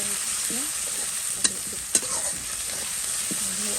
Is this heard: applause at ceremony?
no